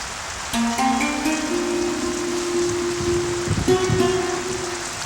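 Heavy rain keeps up a steady broadband rush throughout, while a sustained tonal note rises and holds over the downpour.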